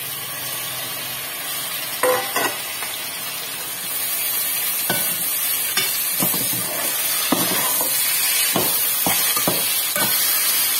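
Tomatoes go into a hot frying pan for tomato rice and set off a steady sizzling hiss that runs throughout, broken by several sharp clacks of a spoon stirring in the pan, close.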